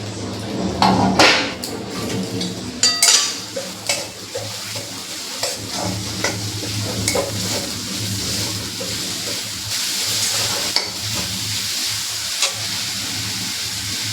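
Chopped date palm jaggery melts with grated coconut in a pan as it is stirred, giving uneven scrapes and knocks early on, then a low steady hiss of cooking underneath occasional utensil taps.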